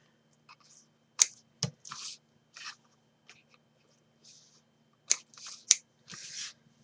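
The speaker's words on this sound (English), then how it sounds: "we can trim these wee bits off with my big giant scissors" Several sharp snips of large scissors trimming paper come in short bursts with quiet pauses between them, close up and fairly soft, with no talking.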